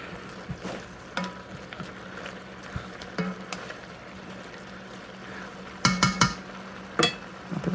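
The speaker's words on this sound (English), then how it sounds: "Let it cook a little bit. Once I get it good and stirred together." Cajun sausage stir fry cooks in a pan with a soft, steady sizzle, while a utensil stirs and scrapes, giving occasional sharp clinks near the end.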